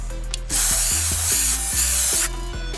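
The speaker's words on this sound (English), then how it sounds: "I'm going to spray in bursts of 2 seconds" Throttle body cleaner sprayed from a can through a straw into a car's throttle body outdoors, one loud sustained hissing burst of about two seconds, close and alone over a low steady engine hum.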